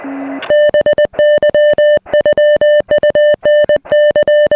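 An amateur radio transmission received well off frequency, heard as loud, steady electronic tones chopped into rapid on-off bursts like garbled Morse-style keying, alone with no talk.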